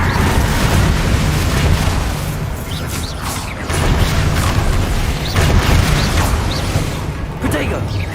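A Confringo fire spell bursts in Hogwarts Legacy amid loud, dense combat din, with deep booms and rumbling impacts layered over continuous low-end battle noise and overlapping spell effects.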